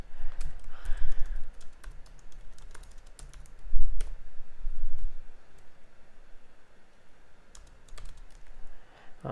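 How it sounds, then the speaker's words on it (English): Keys clatter on a computer keyboard in irregular bursts of typing, close by, with soft thumps and pauses between runs. "sorry, just typing."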